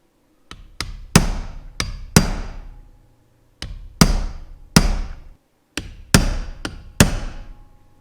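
Hammer striking a cold chisel while working on a Quadrajet carburetor: about a dozen sharp metallic blows in irregular clusters, close and loud, each ringing briefly, no talk.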